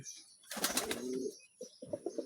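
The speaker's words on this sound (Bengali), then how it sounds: "এই হচ্ছে দুইটা কবুতর।" Two pigeons, one black-eyed and one red-eyed, coo softly at close range in a short burst followed by a few quieter, broken coos.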